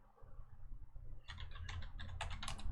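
Rapid clicking keystrokes on a computer keyboard, a quick patter of taps entering after a quiet moment and continuing to the end, close and fairly soft.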